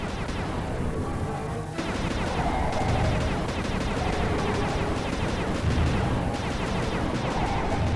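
Rapid, continuous turret gunfire rattles through a boss fight against Clockwork in Sly 2, dense and loud with steady repeating bursts and booming impacts throughout, with no talking.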